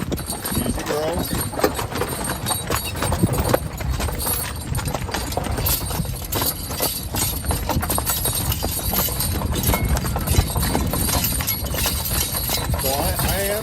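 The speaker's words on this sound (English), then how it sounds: "So I am guiding these horses with the lines" Hooves of a team of horses driven on lines clip-clop in a steady, continuous rhythm, close and fairly loud, with a person talking over the hoofbeats throughout.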